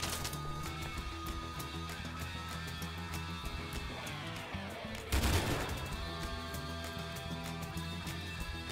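Gunfire in the video game ARCO, faint rapid shots ticking over steady game music, with one louder crashing burst about halfway through.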